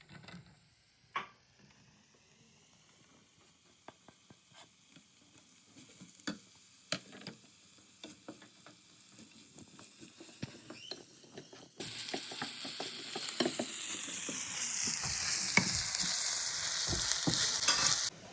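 Chopped onions frying in hot oil with ginger and garlic in a big pot, quiet stirring clicks and scrapes at first, then a sudden loud, steady sizzle as the onions hit the pan, with the spoon clattering on top.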